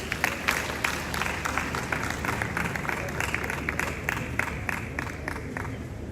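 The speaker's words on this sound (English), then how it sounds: "A round of applause." A crowd at a formal ceremony with Ghanaian royalty and dignitaries breaks into sustained applause, a dense, even wash of clapping with scattered sharper claps throughout, heard from a distance and holding steady for several seconds.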